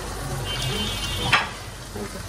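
Mixed vegetables fry in a pan with a steady, continuous sizzle, a brief louder burst of spitting or stirring near the middle, and a low murmur underneath.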